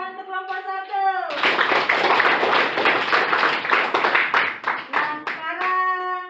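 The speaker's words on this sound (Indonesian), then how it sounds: "Ya, tepuk tangan untuk kelompok 1." Classroom applause for a student group: a burst of brisk, close hand clapping from many children that swells and then trails off unevenly, with a voice speaking before and after it.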